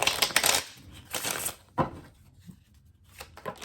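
Tarot cards shuffled and pulled from a deck, giving close, dry riffling bursts and soft flicks in short clusters with quieter gaps between, no talk.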